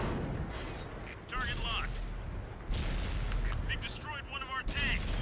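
Tank cannon rounds from a tank combat video game boom out among the battle noise, with sharp shots and a metallic ricochet ring over a constant engine rumble.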